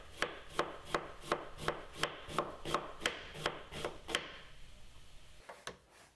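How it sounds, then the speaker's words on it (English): An onion chopped very finely, brunoise style, with a knife on a board: a steady run of about a dozen evenly spaced close knife strokes, then a pause and one last chop. "which is a really, really fine chop."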